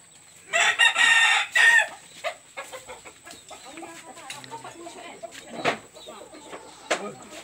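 Chickens at a market stall in Kalabakan: a loud, close rooster crow rings out near the start, followed by scattered clucking and low background voices.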